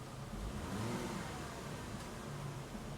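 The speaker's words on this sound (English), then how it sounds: "I just revved it up a little bit." A parked car's engine gets a light rev, a muffled mid-range hum that swells briefly and then settles to a steady idle, fairly quiet with no talking.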